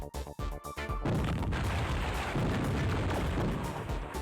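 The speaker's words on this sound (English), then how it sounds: "Plasma gun." A plasma gun fires in Halo Firefight, a loud sustained roaring blast after a few short sharp pulses, dense and close, with no talk over it.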